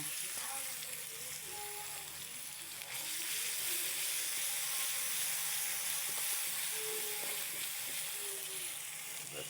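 Ginger paste and garlic sizzle steadily in a hot pan, a dense continuous frying hiss that stays loud and even throughout, with faint clinks and stirring beneath it.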